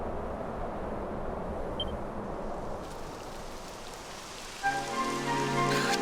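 Rain beginning to fall, a dense even hiss of drops on the ground, with a brief clatter and a brighter tonal rise near the end.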